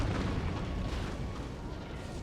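A cannon in the video game Napoleon Total War fires, a dense booming rumble of battlefield artillery sustained at a steady level through the short stretch.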